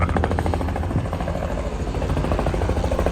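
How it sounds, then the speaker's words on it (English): Helicopter rotor and engine roar loud and steady throughout, close by, as the aircraft sets down on a tanker ship's helipad in the Gulf of Mexico during a gale. "A second helicopter arrived approximately 10 minutes after we landed, carrying all the tools and gear needed for today's job."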